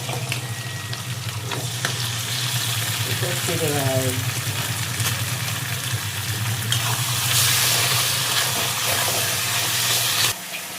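Taro stems and shrimp frying in a pan, a steady loud sizzle with occasional stirring scrapes running throughout, cutting off near the end.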